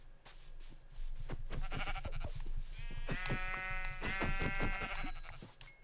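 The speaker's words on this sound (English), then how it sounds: "So many sheep." Several sheep in the Minecraft video game bleat one after another, with a series of loud, nasal, wavering cries that overlap across the whole stretch.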